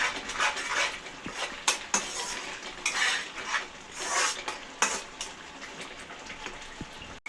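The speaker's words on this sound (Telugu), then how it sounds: "కలుపుకుందాం ఆనియన్ పేస్ట్ బాగా గోల్డెన్ కలర్ వచ్చే వరకు వేగాలండి" Onion paste fries in a pan for fish curry while a metal spoon stirs it, giving repeated scraping clinks at an irregular pace over a soft background sizzle, fairly quiet and close.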